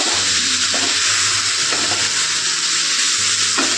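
Cumin powder and ginger paste sauté with water in a pan for a mixed vegetable curry, making a loud, continuous bubbling sizzle close by, broken by a few brief stirring scrapes.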